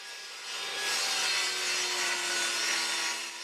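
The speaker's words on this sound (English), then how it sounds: "This ply is made up from layers of hardwood, so I'm taking the cut slowly" A blade slowly cuts through hardwood plywood on a table saw, making a steady, loud, continuous rasping saw noise that builds slightly and holds for the full length, with no talking.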